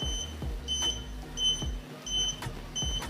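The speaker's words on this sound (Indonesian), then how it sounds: "alarm akan berbunyi" Repeated short electronic car alarm beeps sound in a steady pattern, four bursts spaced evenly, over a low background hum.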